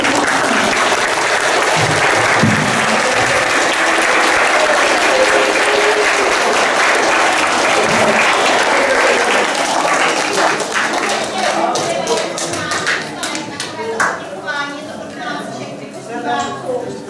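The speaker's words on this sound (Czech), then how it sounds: "A já si myslím, že to bychom měli všichni zatleskat Billymu." A school audience at an eco-team closing meeting applauds in a long, loud, dense wave of clapping that thins into scattered individual claps toward the end.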